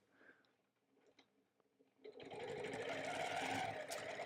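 A longarm quilting machine stitching a curved crosshatch, starting with faint scattered clicks and then breaking into a loud, dense, continuous mechanical whir that runs steadily to the end.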